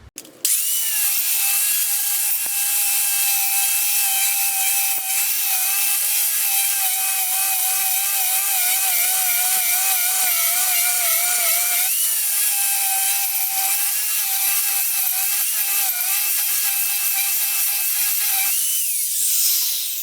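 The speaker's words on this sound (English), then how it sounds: "So I'm going to go ahead and do some grinding here." An angle grinder grinds metal continuously at close range, a loud sustained high whine with slight wavering pitch, briefly dipping midway and again near the end.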